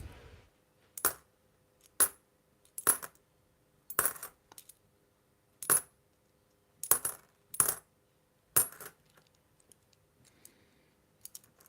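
Ten-cent coins handled and dropped, about nine sharp metallic clinks spaced irregularly across a quiet background, close and clear.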